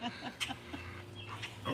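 A dog gives a few short, scattered barks at moderate distance over a steady low hum in an indoor room during a live broadcast.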